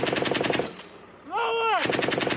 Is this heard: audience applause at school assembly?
no